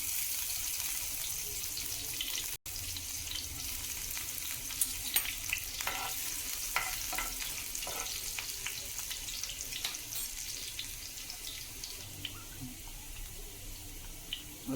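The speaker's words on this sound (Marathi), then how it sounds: "तेल तापलंय, आता लसूण घालून घेऊया याच्यामध्ये." Garlic sizzling and frying in hot oil in a pan, a steady close crackle that runs unbroken throughout with scattered pops and spatters, and no voices.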